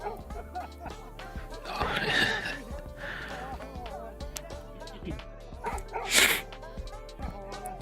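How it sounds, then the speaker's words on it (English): Dogs bark and yip back and forth at one another, heard through a playback with a tinny, compressed quality, the barks mixed with whimpers and a sneeze-like burst, loud at moments and layered under ongoing background chatter. "this dog's barking at this dog and this dog's barking at that dog, asserting its dominance"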